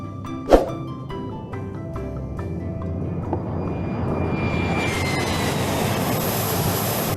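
A toy fighter jet gives a rising, whooshing engine roar after a single sharp knock, building steadily louder and brighter toward the end.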